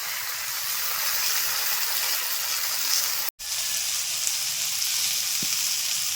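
Mustard and green chilli paste sizzles in a pan with snake gourd, making a steady, even frying hiss broken by one brief silent gap and a small knock later.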